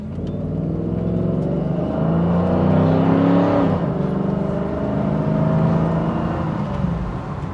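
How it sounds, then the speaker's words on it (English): Cadillac Allanté engine pulling under acceleration on the road, a smooth rising then falling drone heard from inside the car, with tire and road noise underneath and no talking. "No matter what speed you do in this car, it sounds absolutely magnificent."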